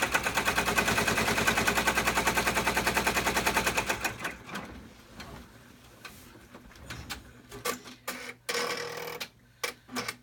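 An embroidery machine stitches down a vinyl double zipper clutch in the hoop, giving a fast, steady mechanical rattle for about four seconds, then falling into scattered clicks and short bursts of handling noise.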